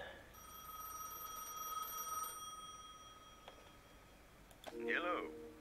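A telephone ringing at a phone booth in a gas station simulator game, a sustained electronic ring fading after a couple of seconds, followed by a brief clicking and a burst of game sound effects.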